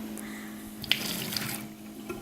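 Keurig coffee maker running a vinegar cleaning cycle, liquid pouring and trickling steadily with a faint pump hum and a couple of small clicks, close and alone.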